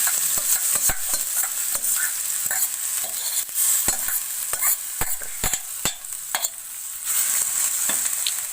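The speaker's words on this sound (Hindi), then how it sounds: "इसका तड़का लग गया है।" Spices and finely chopped chillies for garlic chutney tempering crackle and sizzle sharply in hot oil, with a steady frying hiss and dense rapid pops throughout, close and loud.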